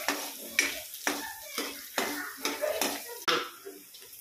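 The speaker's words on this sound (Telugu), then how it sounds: "మంచిగా మిక్స్ చేస్తూ ఉండాలి." Spatula scraping and stirring carrot and onion in a pan, repeated strokes about every half second with light clinks, close and moderately loud, no talking.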